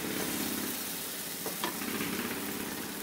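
Mashed green peas fry in a pan under continuous soft sizzling, with faint scraping strokes of a spoon stirring the mash. The sound is quiet and steady and no voices are heard.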